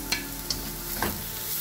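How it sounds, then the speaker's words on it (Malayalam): Carrot, capsicum and cabbage sizzle in a hot pan over a high flame for fried rice, with steady frying hiss and a few sharp stirring scrapes close by. "ഇതിനെ നന്നായിട്ടൊന്ന് ഹൈ ഫ്ലെയിമിൽ വെച്ചിട്ട് സോട്ട് ചെയ്ത് എടുക്കാം"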